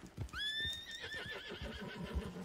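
A horse in a video game whinnies loudly in one rising then falling cry, close, with light hoof clip-clop underneath and no talk.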